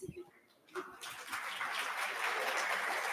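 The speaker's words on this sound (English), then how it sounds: "Give a round of applause for our executive management." Convention hall audience claps for executive management at an annual board meeting, a thin patter at first that swells after a second into steady, moderately distant applause filling the room.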